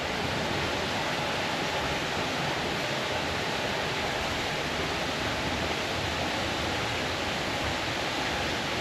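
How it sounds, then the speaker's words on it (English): Rushing water inside a tight cave in the Arkansas Ozarks, a dense, steady roar like a hidden waterfall or stream, constant and enveloping with no voices. "But I hear more water."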